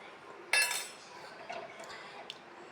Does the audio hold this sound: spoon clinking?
yes